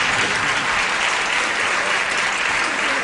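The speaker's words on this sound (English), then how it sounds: "They're applauding John's now." A game-show studio audience applauds loudly and steadily, a dense continuous wash of clapping filling the whole few seconds without speech.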